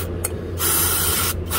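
Aerosol carpet cleaner sprayed onto the hydraulic parts of a Ferris FW45 mower, a close, loud hissing spray in two bursts with brief pauses between.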